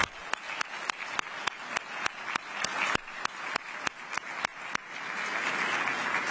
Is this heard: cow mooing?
no